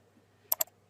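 A computer mouse gives a crisp double click, two sharp close ticks in quick succession against near silence.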